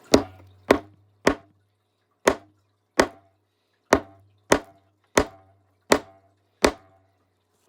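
A geode rock being struck to break it open, about ten sharp, separate knocking blows at uneven intervals, each ringing briefly then falling to silence.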